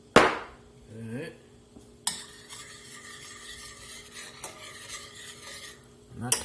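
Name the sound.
chicken frying in hot oil over an open flame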